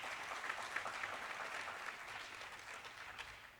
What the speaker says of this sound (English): Let's give them also a warm round of applause.